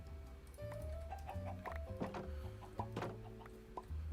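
Iron chickens in Minecraft Sky Factory 3 cluck in short, soft, irregular bursts, mixed with faint ticking machinery in a quiet modded farm setup.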